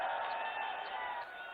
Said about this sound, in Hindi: जोरदार तालियों के माध्यम से अभिनंदन